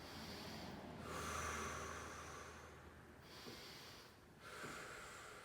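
Slow, deep breaths in and out through the nose during a standing hip stretch in a body weight workout, heard close and soft with airy, drawn-out phases.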